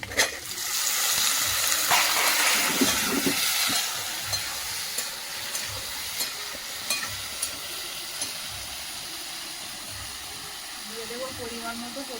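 Onion frying in a pan with pieces of taro and potato, a loud, dense sizzle and hiss for the first few seconds that then settles into a quieter, steady crackle broken by occasional stirring scrapes.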